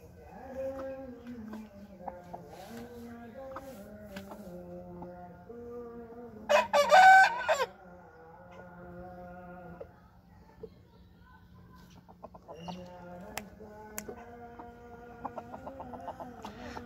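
A domestic rooster and hen kept at home, with the rooster crowing loudly and briefly up close amid repeated clucking and soft chicken calls throughout.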